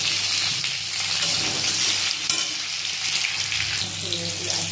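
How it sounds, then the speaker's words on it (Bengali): Diced potato and tomato sizzle in hot oil in a pan along with browned onion. The hiss is steady, dense and close throughout, with faint stirring scrapes and no talking. "আলুটা টমেটোটা ভালো করে ভাজা হয়ে গেছে"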